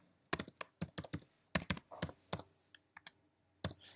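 Keys clatter on a computer keyboard as an event name and address are typed in, a close, crisp run of uneven clicks with short pauses between them.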